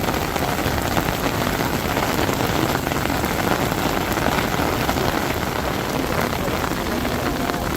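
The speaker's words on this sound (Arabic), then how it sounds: "شوفوا الجو في ساحات المسجد الحرام أمطار غزيرة" Heavy rain pours across the open courtyards of the Grand Mosque in Mecca in the evening, a dense, steady hiss of downpour on stone lasting the whole stretch, with no pauses and faint background noise.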